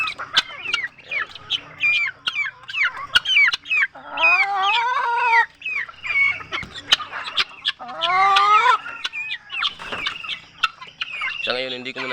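Newly bought pet hens cluck and squawk close by in a backyard coop, with bursts of loud, rising calls among short sharp clucks and a brisk, uneven rhythm.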